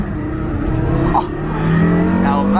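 A Porsche sports car engine revs loudly and steadily while the car drifts, the pitch rising toward the end, with a faint voice briefly underneath.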